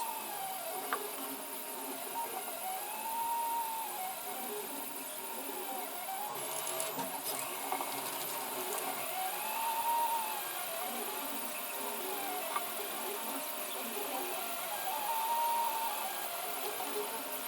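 A 3D printer auto-trams as its threaded rods turn, giving a constant whirring motor hum with gliding stepper-motor tones that rise and fall every few seconds, close and unbroken.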